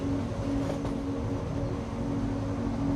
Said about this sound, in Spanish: el tranvía cruzaba las partes diferentes de las